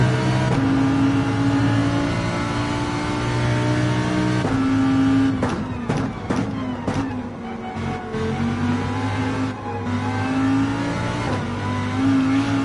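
Lamborghini GT4-class race car engine in Gran Turismo 7, a sustained loud roar that holds high revs, with a few quick gear-change dips partway through and no voices over it.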